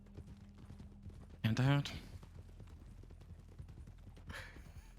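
Horse hooves clip-clopping in a canter across Red Dead Redemption 2, a steady rhythmic patter of fairly faint beats with a short louder burst partway through and a voice speaking briefly.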